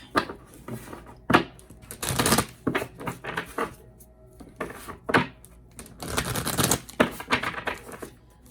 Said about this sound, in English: I'm going to pull a card from my Oracle, my Archangel Oracle deck.